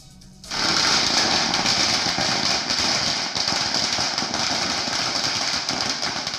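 Diwali firecrackers bursting across Delhi in the evening, a dense, continuous crackle of rapid overlapping pops and bangs that starts abruptly and keeps up a loud, unbroken barrage.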